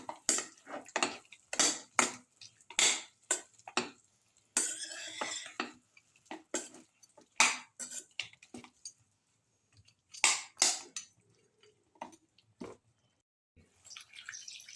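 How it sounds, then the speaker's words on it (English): A spoon stirs spices into a lamb casserole mixture in a pot, with a series of irregular wet scrapes and clinks close by, separated by short pauses and no talking. "Mix thoroughly mix the spices with the rest of the mixture."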